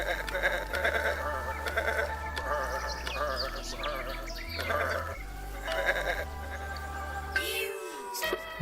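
Sheep-like seed creatures in the video game Botanicula bleat repeatedly over steady game music with a low, shifting bass line, the cries wavering and overlapping.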